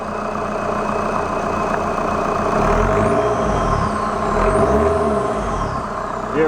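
A Volkswagen TDI CJAA diesel engine running on a test wiring harness is revved twice, its loud rumble swelling and falling back to a steady idle between the revs.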